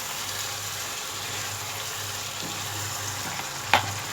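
Chicken pieces coated in yogurt frying for boti kabab, a steady low sizzle with faint bubbling and a single sharp clink of a utensil near the end, no talking.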